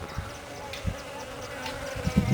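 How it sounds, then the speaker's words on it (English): Bees buzzing around a cactus flower outdoors, a faint continuous drone with a few brief louder passes close by. "So while the bees are over here enjoying it, I thought I'd film it for you and let you see it."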